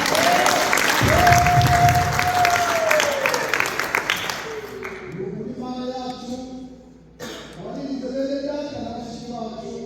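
Church congregation applauding together for several seconds, a dense burst of clapping that fades into tonal music or singing with a few scattered claps.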